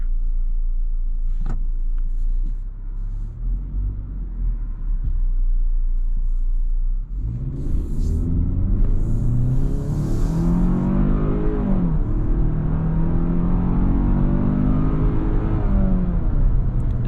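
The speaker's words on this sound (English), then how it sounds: "Let's go ahead and do an acceleration right here." A 2022 Hyundai Tucson N-line accelerates in a steady engine rumble heard from inside the cabin. The engine note rises and thickens about halfway through and holds loud to the end, with no talking.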